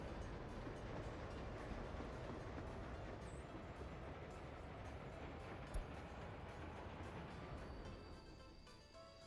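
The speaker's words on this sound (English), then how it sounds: "And here comes our train." A train pulling in during the Soviet Republic: Workers and Resources building game, a steady rumbling rail roll with faint clatter that stays fairly constant throughout, moderately loud and alone without talk.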